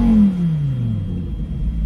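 Lamborghini engine at idle in the streets of Buxtehude, a low steady rumble opening with a short falling whine as the revs settle, close and fairly loud with no talk.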